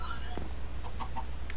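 Chicken clucks in Minecraft, a few short blocky clucks over a steady low game hum, with a faint voice nearby.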